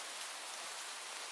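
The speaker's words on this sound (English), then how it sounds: "in the middle of your walk, it starts to rain" Rain begins falling in a video game during an outdoor walk, a steady soft hiss of drops spread evenly across the whole moment, faint and unbroken with no voices.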